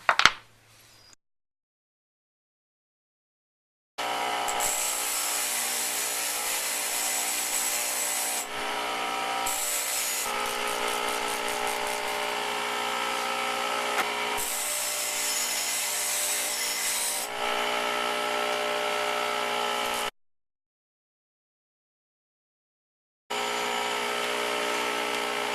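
Chainsaw file rasping against a deer jawbone near the tooth roots, several sustained rhythmic bursts of scraping strokes separated by brief pauses, close and clear with no talking.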